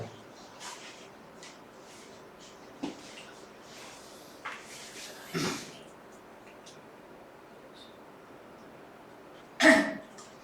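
A student coughs a few times in a quiet physics classroom. The coughs are short and scattered against faint room noise, with a louder burst near the end.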